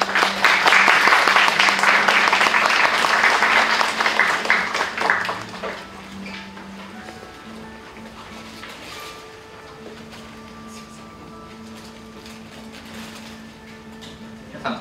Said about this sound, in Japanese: それでは皆様拍手でお迎えください。